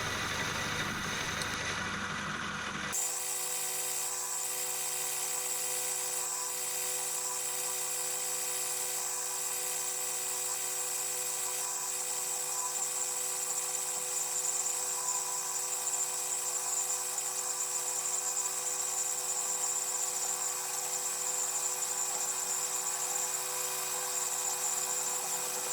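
A metal lathe parts off a steel bar after a rebate was cut on its end, giving a steady, continuous high whine and hum that runs unchanged for a long stretch after a brief opening noise.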